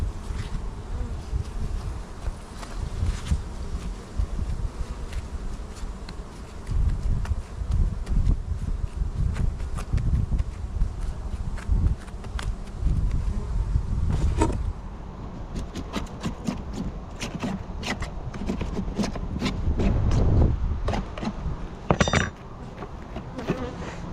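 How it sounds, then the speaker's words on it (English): Honeybees buzzing thickly around an open nuc hive in a mountain bee yard while pollen patties are set out, a dense continuous drone up close with occasional clinks and rustles of handling. "I'm gonna get the bees out the way first so you don't kill any of them if you can"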